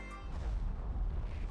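Explosion effect in the game Pokemon Ultra Moon: a short, low rumbling boom that swells and holds as a deep tremor for a moment, heard alone.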